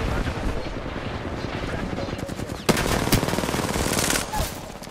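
Rapid video game gunfire rattles in bursts, with sharp automatic shots and a couple of louder cracks over a busy background, while players talk over it.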